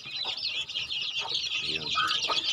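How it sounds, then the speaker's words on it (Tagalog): A flock of turkeys on a farm keeps up a dense, high chattering of clucks and calls, fairly close, with a few louder individual gobbling notes breaking through. "yan, pabo ulit. Marami na itong pabo."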